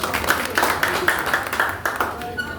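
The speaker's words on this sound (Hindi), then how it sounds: "सर के लिए एक बार जोरदार तालियां बजाएं।" Audience applause at a gathering where someone is being thanked, with steady overlapping claps over about three seconds that fade toward the end, with a faint background voice.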